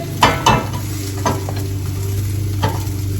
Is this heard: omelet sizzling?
yes